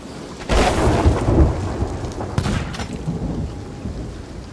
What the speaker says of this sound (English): You got hit by lightning twice in a row.